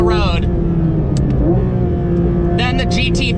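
Porsche 911 GT3 RS (992, 2023) engine revving hard toward its 9,000 RPM redline, a loud continuous high-pitched wail with rising harmonics at the start and again near the end, close and dominant throughout.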